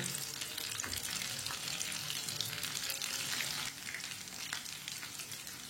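Kebabs fry in a pan with a steady, close sizzle and crackle that runs unbroken and evenly loud throughout, with no voices.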